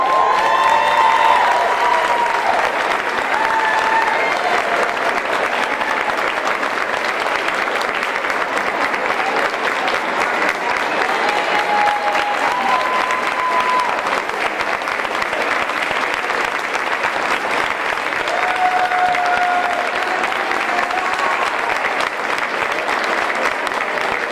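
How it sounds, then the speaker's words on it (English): An audience at an employee service awards ceremony claps in sustained, dense applause that holds steady for about twenty-four seconds, with faint scattered voices underneath. "Please give a big round of applause"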